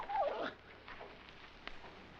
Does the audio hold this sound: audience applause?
no